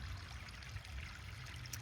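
A small backyard pond waterfall trickles steadily over rocks, a continuous soft, faint splashing with no voices.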